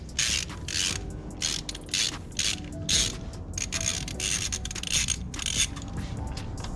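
A ratchet spins off a car's loosened wheel nuts during a braided brake line install, a series of rapid clicking bursts in quick succession, close and loud, with no speech.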